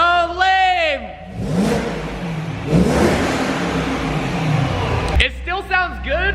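A BMW M3 on its stock exhaust revs hard through the middle of the clip, a broad roaring burst that rises and fades. Talk comes before and after it.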